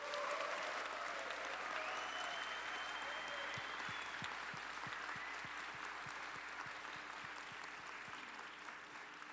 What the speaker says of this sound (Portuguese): Yo pediría un aplauso como un honor a Leonardo que reconoció esto.